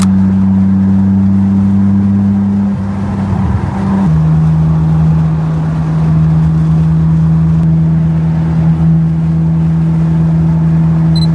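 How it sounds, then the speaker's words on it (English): A Nissan Skyline GT-R R32 driving on a hot day in Fresno, its engine holding a steady droning hum from inside the car, with a brief gear change and rev shift midway before settling back to cruise. "It's a great excuse to drive one of my favorite cars, which is the GTR R32."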